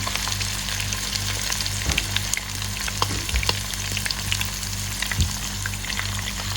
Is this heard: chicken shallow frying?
yes